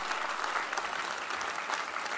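Audience at a stage event with India's Union Agriculture Minister applauds steadily, a dense, even clapping that stays loud and continuous throughout with no voices standing out.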